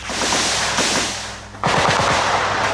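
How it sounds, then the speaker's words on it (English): Rapid bursts of anti-aircraft gunfire echo through a jungle, loud and close, one sustained volley giving way to a sharper, faster string of shots. "panic-stricken recruits begin blasting the jungle with anti-aircraft fire"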